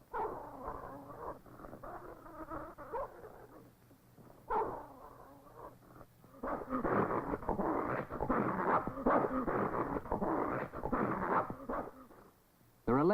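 Sled dogs fight over scarce food in the far north, giving whimpers, growls and yips that swell into a loud, busy scuffle in the second half, with someone talking over the first part.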